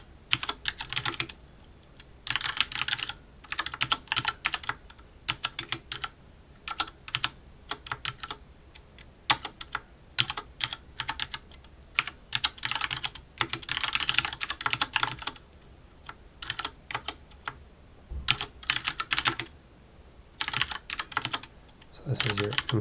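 Steady typing on a computer keyboard, bursts of rapid key clicks with short pauses, close and clear with no talking.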